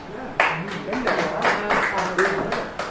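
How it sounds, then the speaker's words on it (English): Audience applause at an American Legion post show in Jeffersontown, Kentucky, bursting out in a few uneven waves of clapping from a modest crowd, with a voice talking over it. "Let's hear about applause if you've heard of Hatteras Island."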